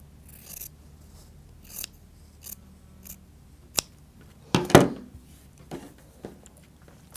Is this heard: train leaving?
no